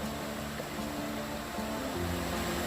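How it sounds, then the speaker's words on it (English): The Pigeon River rushes beside the Gatlinburg Trail, its mountain water making a constant, even roar that fills the whole moment without a break. "Just listen to that rushing water."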